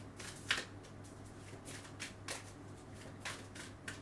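Oracle cards being shuffled by hand at a tarot reading; quiet, close riffling bursts recurring every second or so against a faint steady hum.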